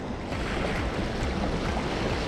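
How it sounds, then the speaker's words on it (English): Big waves breaking on a lake shore, a continuous loud wash of surf with wind buffeting the microphone, no voices present. "the waves are quite big and it's hard to see what is going on in the water"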